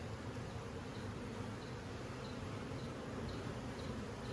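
A steady, dense buzz from many honeybees around an open hive in an apiary, continuous and fairly close, with no other sounds.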